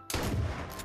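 A single loud gunshot blast fired in the H1Z1 battle royale video game, a sharp broadband crack followed by a sustained echoing roar that tails off within a second.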